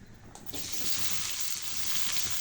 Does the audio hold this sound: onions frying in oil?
yes